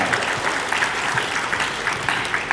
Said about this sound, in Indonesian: Kasih tepuk tangan untuk Mas Erlangga pribadi